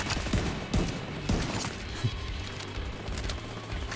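Gunfire in The Division 2 shooter game: several sharp shots crack in an irregular burst over a dense, noisy combat backdrop, with no talk.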